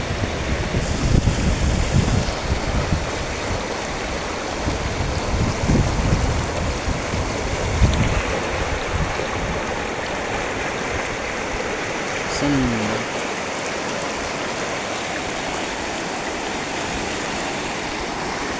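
A river waterfall near Mumbai rushes in a dense, steady roar of flowing water, loud and close throughout, with a voice briefly audible over it.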